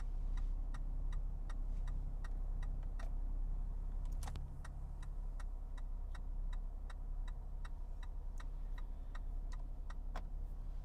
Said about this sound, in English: I want to show you the sound when you do put your directionals. This is the sound from the cluster.